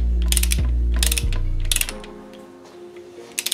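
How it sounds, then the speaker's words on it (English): Ratchet tightening nuts on a Caterpillar C0.7 diesel engine during a piston rebuild, loud close bursts of rapid clicking in three quick runs, then quieter scattered clicks and a final short burst. "We're going to give these a good tighten up here. Tighten them up evenly so that that bearing goes on straight."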